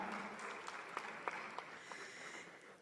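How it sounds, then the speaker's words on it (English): Audience applause at the Texcellence 2025 event greets Sunfi's co-founder and CEO Rotimi Thomas: a faint, distant wash of steady clapping with a few sharper individual claps standing out. "Please, a round of applause for the co-founder and chief executive officer of Sunfi, Rotimi Thomas."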